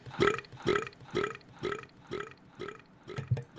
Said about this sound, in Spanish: Ha sido una mierda de eructo eso